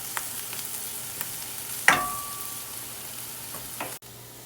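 Vegetables sauté in a pan where fish was cooked, a soft steady sizzle with a sharp scrape and clatter of stirring, plus a few lighter taps, heard alone and fairly quiet.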